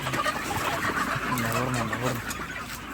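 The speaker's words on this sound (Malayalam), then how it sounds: "കറുപ്പും ചുവപ്പും റോസും ബ്രൗണും എല്ലാം കൂടെ കോഴി അടുത്ത് അപ്പുറത്തും കിടക്കുന്നുണ്ട്" Chickens of mixed colours (black, red, pink and brown) on a large poultry farm in Maharashtra, their clucking and low calls layered in a continuous busy din at close range.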